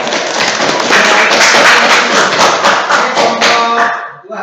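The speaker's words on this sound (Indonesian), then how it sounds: "tepuk tangan dulu deh" A classroom of students claps together in a dense, rhythmic burst of applause lasting a few seconds before fading out.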